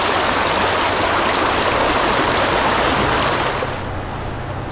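A flowing creek or small river rushes steadily nearby, loud and continuous broadband water noise with no voices, dropping slightly in level near the end.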